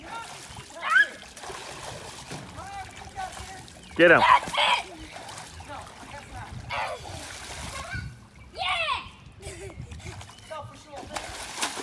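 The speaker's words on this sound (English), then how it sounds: "Splash war." Water splashing during a family splash war, with several loud splashes and sloshing bursts at irregular intervals among excited talking voices.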